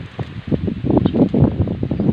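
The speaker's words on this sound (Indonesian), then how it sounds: "Wis, angin kencang." Strong gusty wind buffeting outdoors, rising in loud roaring bursts and rustles that swell through the middle, close and rough.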